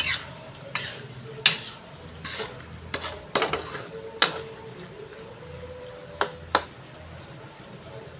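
Shrimp paste (alamang) being stir-fried in oil in a pan, with a steady low sizzle broken by a series of sharp scraping and clanking strikes of a utensil against the pan at irregular intervals.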